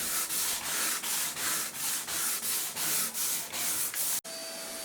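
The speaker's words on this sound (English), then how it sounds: "Finishing with 180 grit paper at the more rough surfaces." Rhythmic back-and-forth rasping of 180-grit sandpaper on a repaired kayak bottom, about a dozen even strokes, close and steady, cutting off abruptly near the end.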